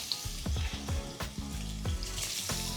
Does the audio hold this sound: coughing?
no